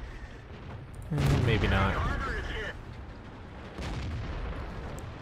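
Tank cannon fire in the video game World of Tanks: a heavy boom and rumbling report that lingers, then a second, weaker blast, with a voice speaking briefly over the shots.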